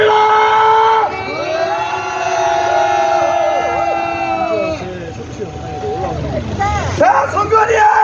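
Outdoor political rally crowd in Busan shouting and cheering, a loud sustained roar with a held chant-like tone that fades and then rises again near the end, with amplified voices and babble mixed in.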